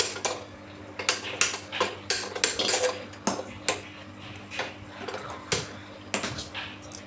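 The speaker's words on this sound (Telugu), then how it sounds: "స్టవ్ వెలిగించుకొని ఒక గిన్నె అయితే పెట్టుకోవాలి" A metal pot is set on a stove, clanking and clattering against a hard surface several times, irregular knocks and scrapes over a low steady hum.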